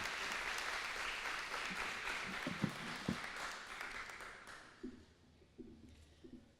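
Applause from an audience at a cultural event in an auditorium, fairly quiet and steady, then fading to scattered claps and faint murmurs near the end.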